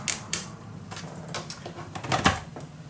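Fiskars paper trimmer slicing through paper, a series of short dry clicks and scraping strokes up close, with one louder sharp cut near the end.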